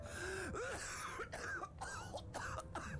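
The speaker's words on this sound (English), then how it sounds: "Okay, stop with the coughing." Several rough coughs and throat-clearing bursts come in quick succession, loud and close, over a steady background hum.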